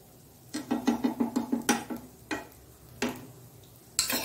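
Kasuri methi dosa cooking on a pan with ghee, with a run of rapid rhythmic scraping and tapping strokes followed by a few sharper isolated knocks over a soft background sizzle.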